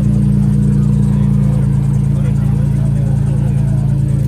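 A Ferrari engine runs loud and steady at a car show, with a low, constant drone held close throughout and no clear rise in pitch, while voices talk over it.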